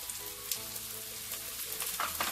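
Onions sizzle in hot oil with asafoetida, turmeric and Kashmiri red chili stirred in, a steady, close crackling fry with occasional louder spits and pops throughout.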